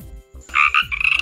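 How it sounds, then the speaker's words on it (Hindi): A frog croaks after falling into water, giving two short, close, fairly loud tonal croaks in quick succession over a low background rumble. "ओह मेंढक पानी में गिर गया।"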